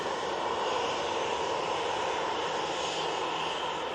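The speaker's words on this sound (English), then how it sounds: "British Airways with their 319 now, making their way over to us" A British Airways Airbus A319 jet airliner taxiing at Manchester Airport gives off a steady, fairly faint engine hum and whine that holds level throughout, with no voices.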